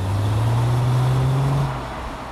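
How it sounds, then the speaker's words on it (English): A Mercedes CLK 320 with a V6 engine gives a low, steady engine note that rises slightly in pitch, then drops away near the end, heard alone and close. "Now the V6 on this engine really does make a lovely throaty rasp when you're driving it hard."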